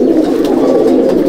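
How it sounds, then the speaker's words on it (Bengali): A brief, close burst of continuous low cooing from breeder pigeons in a loft, several birds overlapping into a thick, even drone. "এগুলো আমার সব ধারি ব্রিডার পায়রা"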